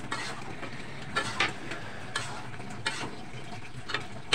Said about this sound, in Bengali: তারপর ভালো করে কষিয়ে নেব